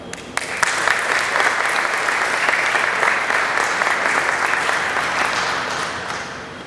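Audience applause welcoming a speaker at a Lexington business expansion announcement: sustained, dense clapping from a sizeable crowd, steady and fairly loud for the whole stretch and fading slightly at the end, with no voices over it.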